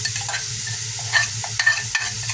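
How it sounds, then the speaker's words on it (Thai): Garlic stir-fried in a hot pan for a chicken-foot noodle curry, a steady loud sizzle broken by scraping stirs and brief clatters, close and continuous with no one talking. "เขาก็ใส่กระเทียมลงไปเลยพี่น้อง"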